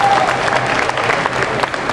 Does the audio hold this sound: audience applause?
yes